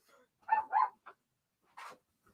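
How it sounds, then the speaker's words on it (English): Dogs bark loudly nearby, two quick barks followed by a single small yip and a later bark, separated by silence. "Oh, the doggies are barking."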